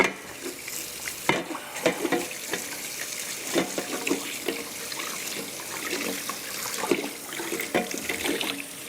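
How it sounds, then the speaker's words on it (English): Tap water runs into a kitchen sink while hands are washed, a steady close splashing and trickling with irregular sloshes and small knocks throughout. "let me wash my hands for a moment."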